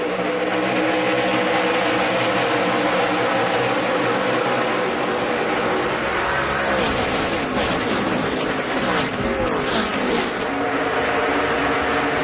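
Loud, continuous engine roar from a pack of NASCAR stock cars at speed on the Chicagoland oval during the 2011 STP 300, with the noise swelling around the middle as cars sweep past close by.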